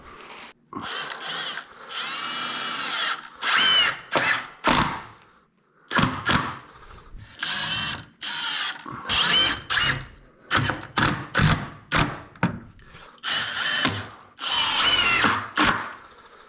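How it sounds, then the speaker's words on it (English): A power drill drives screws through 2x4 wood framing while a wall is built, in a rapid run of about a dozen loud, close bursts separated by brief pauses. "I'm just gonna run a couple screws in to hold these together before I anchor it down into the ground."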